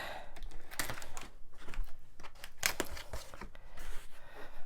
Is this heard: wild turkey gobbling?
no